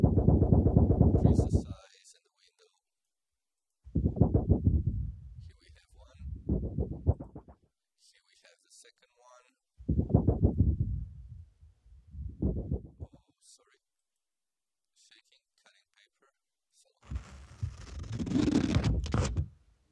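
Recorded samples of paper being shaken and cut, set up as sound design material alongside a music box: several separate bursts of crinkly, rustling texture with pauses between them, ending in a denser, noisier scraping passage.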